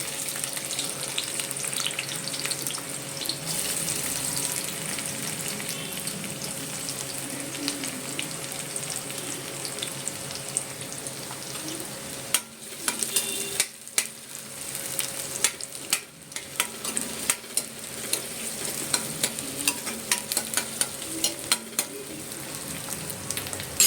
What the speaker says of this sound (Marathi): आपण आता त्यात कांदा टाकणार आहोत.